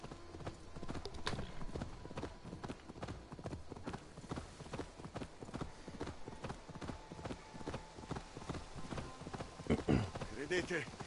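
Horse hooves clip-clop in a steady, rapid rhythm, fairly close, running beneath intermittent talk, with one louder jolt near the end.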